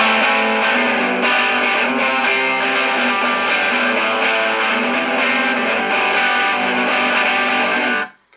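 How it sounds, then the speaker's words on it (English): Distorted electric guitar chords ring out loud and continuous for about eight seconds, crunchy and punky, then cut off abruptly. "get a nice, small but pokey, like punk guitar sound"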